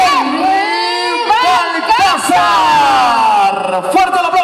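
A large crowd at the Telecáncer 2015 telethon stage show cheers, whoops and shouts loudly and continuously, with excited voices rising over the din throughout.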